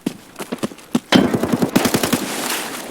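Automatic gunfire in a shooting video game, rapid bursts of sharp cracks, first a spaced run of single shots and then a dense rattling volley, loud and without talk.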